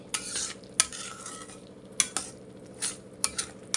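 Semolina and grated coconut cook in bubbling sugar syrup while a spoon stirs the pan, with a soft continuous simmer broken by repeated scraping strokes and sharp metallic clinks.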